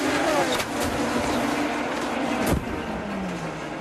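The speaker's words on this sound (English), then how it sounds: "Whoa! Big crash!" An IndyCar slams into the fence at speed, engine noise roaring throughout with a sharp impact crack near the end and a falling engine drone afterward.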